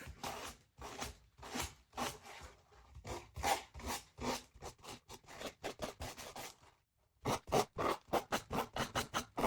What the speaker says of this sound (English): We'll just sand down with our finger sander and make sure that we've got all that extra paper off.